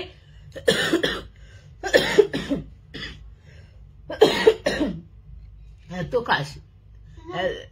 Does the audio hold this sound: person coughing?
yes